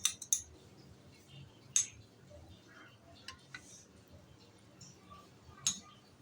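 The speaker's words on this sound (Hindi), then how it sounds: "पहले आपने चम्मच लेकर मिक्स करना है।" A metal spoon clinks against drinking glasses while mixing milk sharbat, several sharp, light chinks scattered irregularly, quiet and close, with soft kitchen rustling between them.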